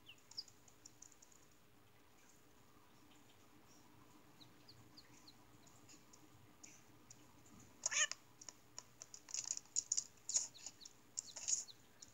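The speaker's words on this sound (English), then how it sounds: "Was that just me, or did that meow sound a little bit cut off?" A cat meows in the Nintendogs + Cats handheld game. Faint electronic clicks and short bursts cluster toward the end over a quiet background.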